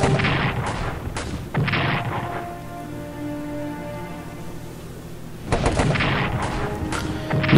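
Artillery fire in the WWI strategy game Strategic Command: a burst of loud, sharp booms and crackling blasts, then a low rumbling hum, then another dense volley of close heavy impacts.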